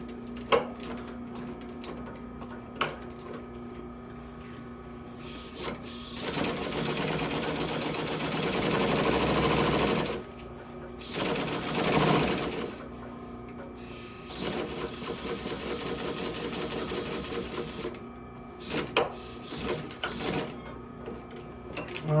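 A sewing machine stitches upholstery for a bench seat. It runs in several sustained bursts, some long and some short, separated by pauses and handling clatter. The mechanical whir is close and loud.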